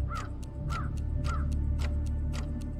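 Crows caw in a steady series of harsh, evenly spaced calls, about five in quick succession over a low background rumble.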